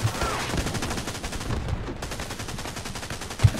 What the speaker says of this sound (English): I'm just shooting at tracers.